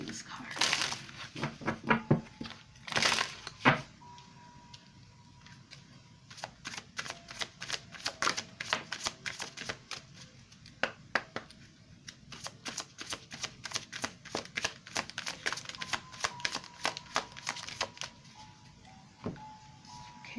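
A deck of tarot cards is shuffled close by, with quick crisp riffles and flicks in bursts followed by scattered soft card slaps and taps, quiet throughout.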